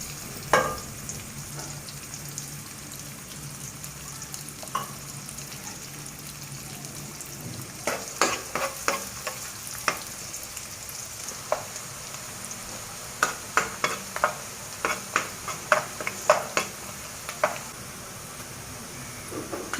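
Onions fry in hot mustard oil in a home kitchen, a steady soft sizzle broken by clusters of sharp scraping and clinking as a spoon stirs the pan, growing busier toward the end; no talking.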